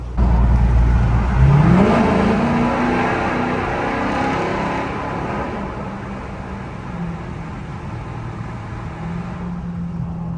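A Dodge Charger SRT8 revs its engine loudly inside a tunnel, a deep booming roar that climbs in pitch early on and then settles into a sustained echoing drone, close and heavy.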